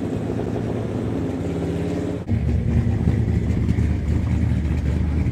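A Chevrolet El Camino's V8 engine rumbles loudly up close, a deep throbbing idle that shifts abruptly to a heavier, rougher tone partway through, with no talk over it.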